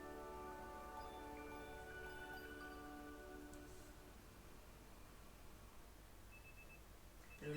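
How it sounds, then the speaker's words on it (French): An in-game alarm clock rings in Pokémon Legends Z-A, a steady layered electronic tone sounding continuously at moderate level throughout, with no talking. "Le lendemain, votre réveil sonne."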